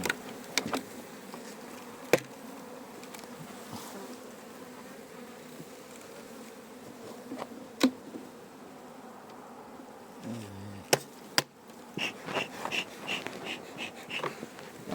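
Bees buzz steadily at an apiary during a honey harvest, a faint continuous hum with occasional close passes and a few sharp knocks, no talking.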